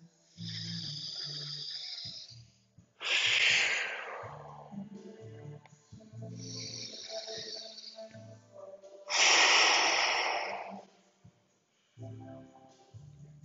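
Slow, deep breaths during a yoga flow, long audible inhales and exhales in a steady pattern, two fuller breaths standing out louder, close and quiet with no talking.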